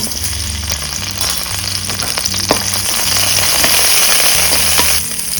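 Garlic frying in oil in a wok, a loud, close, continuous sizzle with occasional clicks and scrapes of stirring.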